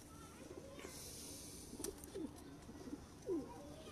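Pigeons coo in a few short, soft rolling calls at a quiet distance, with faint background rustle between them.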